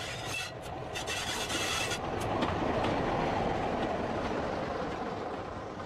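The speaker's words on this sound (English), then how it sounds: "this Class 25 engine working an enthusiast special on the West Somerset Railway" A Class 25 diesel locomotive runs an enthusiast special on the West Somerset Railway, giving a steady, moderately distant rumble with rail rasp and faint clickety-clack throughout.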